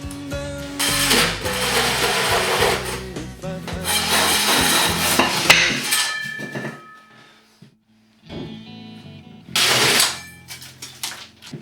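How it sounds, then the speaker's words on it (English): A hole saw cuts a round drywall repair piece: loud grinding, rasping bursts in two long runs, then a pause and a short final burst, with no talking. "Our next step in drywall repair is to make our repair piece with the hole saw."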